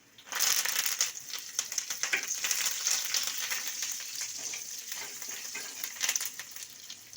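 Curry leaves crackle and sizzle in hot oil with garlic and dried red chilies for a dal tempering, a busy close-up spitting that bursts loudly then settles into steady frying with no talk.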